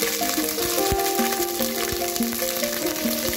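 Onions sizzle in half a cup of hot cooking oil for a Rawalpindi-style brinjal dish, a soft steady frying hiss under faint clinks and ringing tones, no voices.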